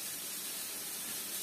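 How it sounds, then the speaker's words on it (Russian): A soft, steady hiss and faint crackle of rice toasting in a dry frying pan for plov, continuous and close. "Рис обжариваю прямо на сухой сковороде."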